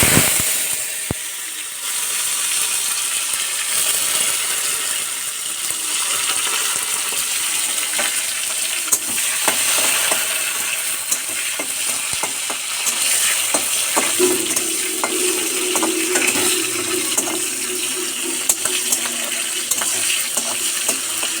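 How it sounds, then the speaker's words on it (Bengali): Dal frying in a hot pan gives a steady sizzle, with scraping and clinking stirring strokes throughout; no voices. "ডাইল সম্বাস হইতেছে।"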